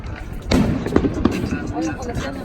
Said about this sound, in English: Here comes firework number 2.